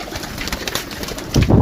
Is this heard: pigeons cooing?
yes